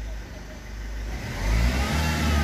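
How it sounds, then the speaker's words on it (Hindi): A Ford Fiesta with a faulty ABS module and fault codes runs with a steady low engine drone that swells as the accelerator is pressed, revving louder through the second half. "एक्सीलेटर भी लेना शुरू कर दिया गाड़ी ने"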